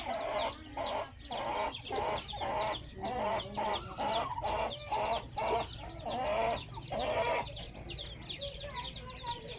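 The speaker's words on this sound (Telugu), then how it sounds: "మైలా పుంజు మంచి రంగు ఫ్రెండ్స్ ఓకేనా మంచి నోస్ కూడా" Roosters offered for sale, including long-tailed fighting-type cocks, cluck and call in repeated bursts at moderate distance, with overlapping bird chatter and a low background hum.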